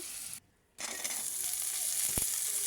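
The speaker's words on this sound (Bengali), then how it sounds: "দিয়ে দিব পেঁয়াজ কুচি, কাঁচামরিচ কুচি দিয়ে একটু নেড়ে ছেড়ে ভেজে নেব।" Chopped onion and green chili frying in white oil, a loud continuous sizzle that briefly drops out near the start, then resumes with a single knock of a spoon.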